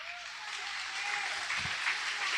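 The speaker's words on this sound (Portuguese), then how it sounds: "Aplauda bem forte ao Senhor." Church congregation claps loudly for a few seconds, a dense wash of applause from a large room growing slightly stronger toward the end.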